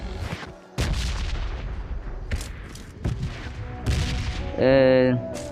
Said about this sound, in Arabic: مين بيضرب هنا؟ ضرب نار برضو.